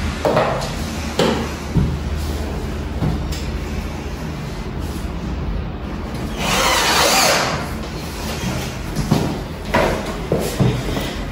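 A power tool drives the remaining four screws into a guide for a pergola installation, with short bursts of drilling, clicks and handling knocks nearby in a noisy work setting.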